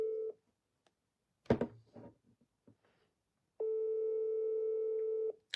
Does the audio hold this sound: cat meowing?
no